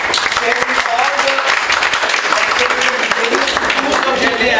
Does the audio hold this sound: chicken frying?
no